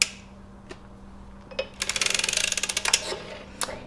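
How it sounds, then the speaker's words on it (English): A rapid series of mechanical clicks from an Erlbacher hand-cranked sock knitting machine, a fast ratcheting run lasting about a second, with a few isolated clicks before and after. "I crank past, I hear that last click"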